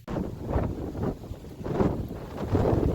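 Strong Scottish wind buffets the microphone in loud, rumbling gusts that rise and fall over a few seconds.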